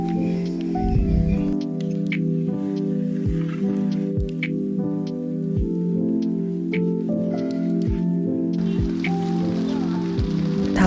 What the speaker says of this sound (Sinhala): දැන් හයියෙක් වහිනවා